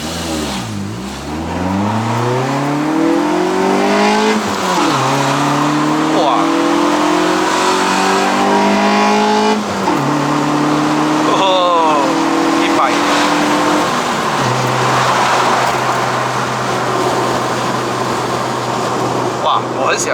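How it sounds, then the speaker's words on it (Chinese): A 2005 Proton Wira 1.5 with a five-speed manual accelerates hard from 0 to 100, the engine note climbing steeply through each gear and dropping at every shift, loud and close from inside the cabin. "我很喜欢在它6500转的时候啊，它那个声音啊"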